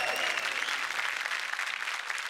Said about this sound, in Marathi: स्मिता गोंदकर साठी जोरदार टाळ्या झाल्या पाहिजेत.